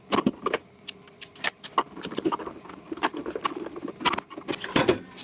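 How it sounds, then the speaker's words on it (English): Screws being driven into the case of a Nintendo Entertainment System console, heard as close, sharp metallic clicks and scrapes in irregular bursts, with no talking. "So I'll replace the top and I'll put these screws in."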